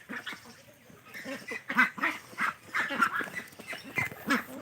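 Broiler-fed ducks on a farm quack repeatedly while eating feed, a busy run of close, uneven calls from several birds overlapping.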